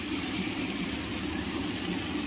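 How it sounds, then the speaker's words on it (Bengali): Water poured into a cooking pan of spiced chicken curry with ginger, garlic and tomato, a steady continuous gush and splash with no pauses. "একটু জল দেবো"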